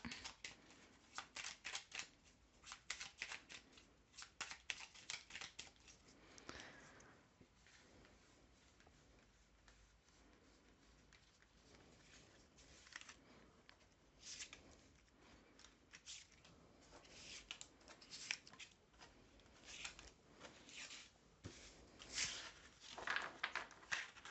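Tarot cards are reshuffled by hand at close range, a long run of soft, quick riffling and flicking with uneven bursts and short pauses, faint and with no talking.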